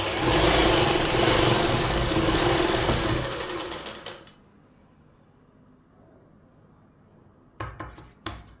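A sewing machine runs loud and steady while stitching the lining of palazzo pants, stops abruptly partway through, then gives a couple of brief bursts after a quiet pause.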